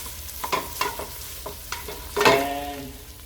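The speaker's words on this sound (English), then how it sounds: "Then I'm going to add my tomato paste. Give it a swish around." Tomato paste frying and being stirred in a hot pan for a vegan tomato, BBQ and chilli sauce: a steady sizzle broken by several quick scraping strokes, then a louder burst of spitting near the end.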